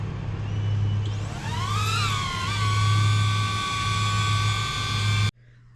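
DJI drone spinning up and flying nearby, a loud steady propeller whine rising in pitch over the first couple of seconds, then holding as a constant hum before cutting off abruptly.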